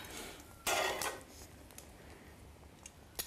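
Metal tongs clatter against a plate as eggs are set down, one loud scraping clatter followed by a few faint clicks in a quiet kitchen.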